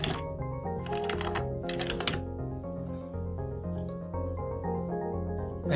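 Fingers type on a computer keyboard in bursts of quick clicking keystrokes, moderately close, with short pauses between runs of keys and no talking.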